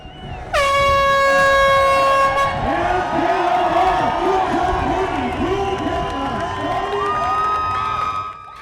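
A loud air horn starts the L.A. Marathon, blasting for a couple of seconds, then a crowd cheers and shouts steadily as the noise carries on.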